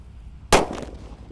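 A jumbo paper-wrapped roman candle firecracker goes off outdoors, one sharp loud pop followed by a short fading rumble over faint background noise.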